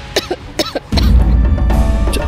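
A person coughs in a few short, sharp bursts during a home scene in a TV drama, right after eating too quickly. A loud, steady broadband noise then takes over.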